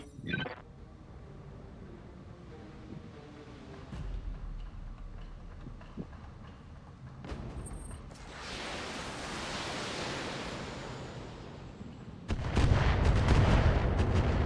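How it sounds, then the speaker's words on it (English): Missile weapons fire in the BattleTech video game, with scattered thumps and whooshing bursts building to a loud roaring salvo near the end, heard alone without speech. "It's almost like a LRM-15 or an LRM-20 that they're firing."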